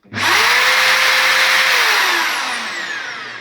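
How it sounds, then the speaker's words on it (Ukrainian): A Bosch AdvancedImpact corded drill spun up to maximum speed, a loud steady high-pitched whine that rises as it starts, holds for a couple of seconds, then winds down with a falling pitch. "Дуже висока оборотіста дриль."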